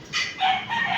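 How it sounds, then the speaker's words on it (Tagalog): Chickens crow and cluck nearby at a residential building. Drawn-out crowing calls overlap with clucking throughout a short burst, and no one speaks. "Ang daming manok."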